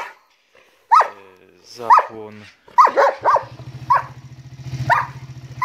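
A dog barks sharply about six times close by while someone talks. A steady low engine idle, likely a Romet ZXT 50 moped, joins partway through.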